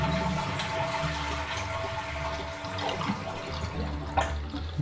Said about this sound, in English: flush it, water out.